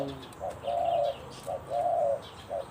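A zebra dove (nok mongkhon) coos close by in a repeating pattern of short trilled notes. Several coos rise over a steady low background hum.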